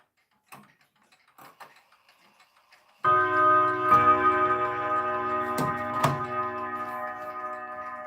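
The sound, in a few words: ticking clock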